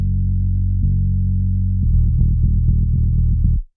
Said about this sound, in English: this is just the straight DI output from Gin Bass, and it's got the low pass on it, just a tiny bit of compression to smooth it out